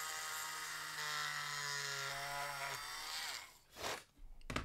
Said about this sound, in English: I'm going to drill back in through the back of this guy.